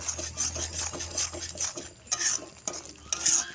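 A spoon stirs papaya curry seasoned with salt and turmeric, with rhythmic scraping and clinking against the pan over a light sizzle, close and fairly loud, several quick strokes with no talking.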